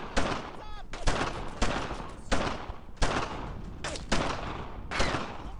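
Gunfire in the World War II shooter Brothers in Arms: Earned in Blood, with sharp, fairly loud shots cracking at roughly one-second intervals amid battle noise, without clear speech.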